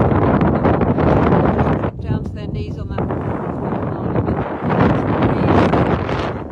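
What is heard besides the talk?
strong wind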